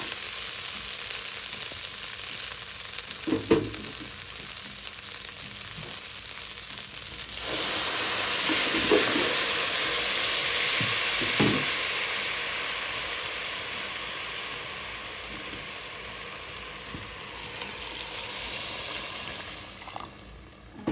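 Basmati rice fries and is stirred in a pot for pulao, giving a steady hissing sizzle that grows louder midway, with occasional scraping spoon knocks and no voices.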